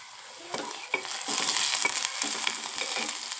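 Aloo paratha potato filling fries and gets stirred in a pan, a steady close sizzle with repeated scraping strokes of a spoon across the pan surface, no talking.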